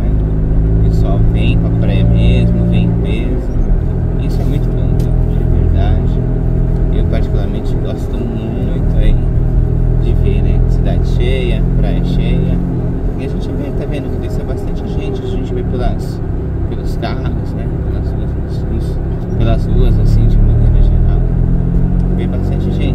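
Steady car traffic on busy streets in Praia Grande on a sunny Sunday, a continuous engine rumble with passing vehicles, heard from inside a moving car while people talk over it.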